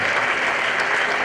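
An audience at a talk claps in a dense, steady burst of applause, loud and continuous over the short stretch.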